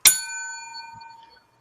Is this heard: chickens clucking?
no